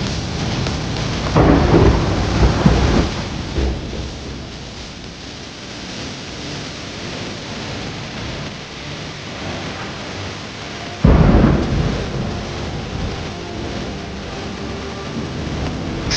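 Heavy rain pours steadily on a mountain road while two deep rolls of thunder rumble through, one near the start and another later on.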